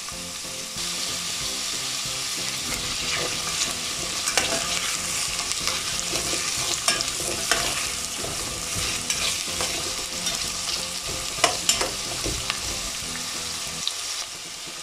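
Carrots frying and browning in a pan for jalapeño pickles, a steady close sizzle with occasional stirring clatter running throughout, no voices.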